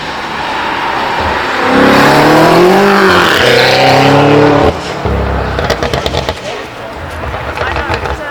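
Cars accelerate up the Shelsley Walsh hill climb during the Gumball 3000 2024, with one engine revving loudly through rising gears and then a burst of rapid, crackling exhaust as it pulls away.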